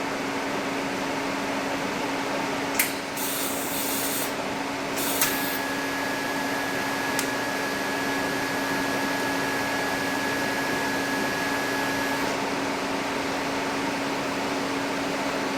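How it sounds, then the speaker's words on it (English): Steady TIG welding torch arc hiss on steel while filling old scope holes, a continuous electrical buzz with a thin high tone holding for several seconds and a couple of brief crackles, no talking. "I always like to keep my TIG torch right over top of the weld for a little bit longer because the weld pool is solidifying"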